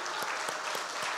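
An audience at a Korean church Bible recitation gathering claps in a brief burst of applause, dense and close, lasting about a second without speech.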